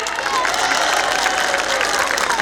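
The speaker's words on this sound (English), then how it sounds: "Can we hear a little louder applause from them?" Parents at a school annual day applaud in a large hall, a steady wash of clapping from a crowd holding at even loudness throughout.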